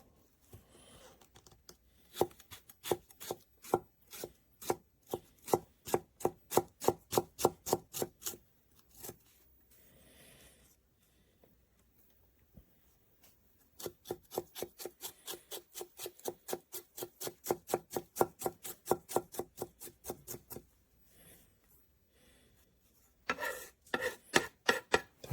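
A Kanngou 8.27-inch Damascus Japanese chef knife with an AUS-10 core chopping food on a board, making fast, crisp, evenly spaced knocks in several bursts separated by short quiet gaps.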